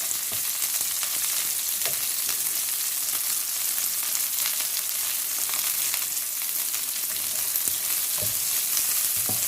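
Chicken and vegetables stir-frying over a high flame, a steady loud sizzle and crackle with small stirring clatters, heard close with no talking.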